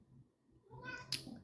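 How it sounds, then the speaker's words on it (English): A house cat meows once, a short close tonal cry rising out of a quiet room with faint low background hum. "I think you just heard my cat"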